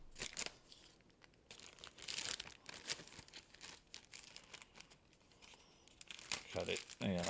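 Comic book packaging being cut open and handled, with crackly plastic crinkling, rustling and tearing bursts in an irregular stream, close-up, with a voice speaking at times.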